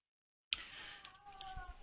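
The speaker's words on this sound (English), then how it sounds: "My other cat is yelling at the window." A house cat yells at a window, one loud drawn-out meow starting abruptly after silence and trailing off into a wavering cry, close and alone.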